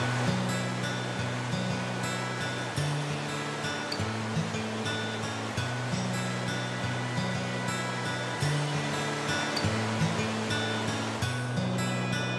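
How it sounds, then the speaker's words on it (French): The Gave de Cauterets river in the Hautes-Pyrénées flows steadily without a break, a dense wash of rushing water with a low droning hum layered underneath. "Et au milieu coule une rivière"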